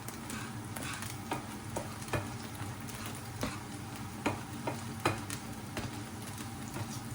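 Steady sizzling in a hot frying pan as flour is stirred into chanterelle mushrooms, with rhythmic scraping strokes of stirring, close up, and no voices.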